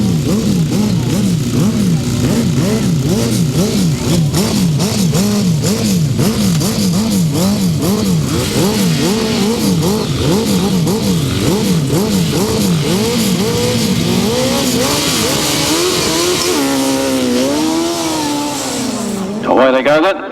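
Grasstrack racing motorcycles at the 2011 South Eastern Centre championships roar away from the start together, engines revving hard through gear changes in a loud, continuous howl, with a commentator talking over them.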